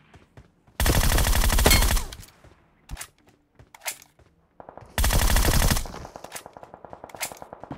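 Automatic gunfire in a battle royale shooter video game, two loud sustained bursts of rapid shots about a second long each, separated by scattered single shots and quieter game noises.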